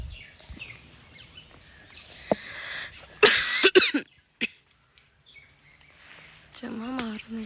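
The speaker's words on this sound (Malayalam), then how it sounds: "ചുമ മാറുന്നില്ല." A person coughs outdoors while harvesting kudampuli fruit, several sharp coughs bunched in the middle, with a few softer sounds and bird calls around them.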